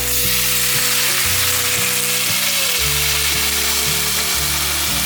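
Pumpkin pieces fry in a pan as water is poured in, producing a loud, dense hissing sizzle that runs throughout beneath steady background music.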